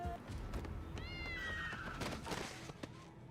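Cat meowing in a Korean TV drama scene, one drawn-out mew near the middle, fairly faint, over low background ambience.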